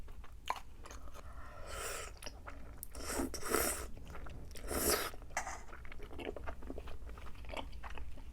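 Close, wet chewing and crunching on fish cake from a tteokbokki meal, in irregular bursts with louder bites near the middle and end, heard alone without speech.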